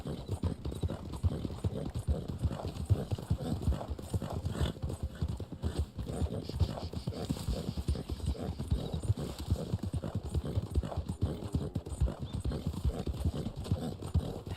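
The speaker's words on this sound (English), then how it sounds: "this is the Black Arabian horse that I'm riding" A Black Arabian horse in Red Dead Online trots with steady, close clip-clopping hooves, a continuous even rhythm throughout with no talk over it.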